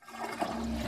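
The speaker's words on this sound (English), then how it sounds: "Every flush spews bacteria onto surfaces" A toilet flushes close by, a short surging rush of water that swells and holds steady to the end, with no talking.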